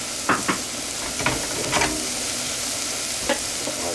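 Food frying in a pan gives a steady loud sizzle, broken by a few brief scrapes and taps from stirring, with no talking.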